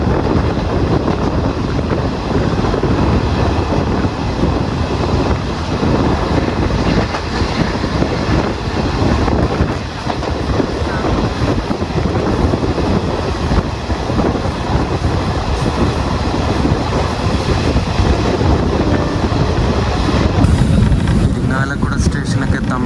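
Kozhikode Jan Shatabdi Express slowing as it nears a station, a steady loud rumble of rolling carriages with faint clatter and wind buffeting throughout.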